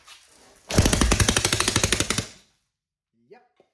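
A 3D printed 180cc engine bursts into a loud, rapid firing rhythm for under two seconds, then sputters out and stops, followed by a brief faint sound afterward.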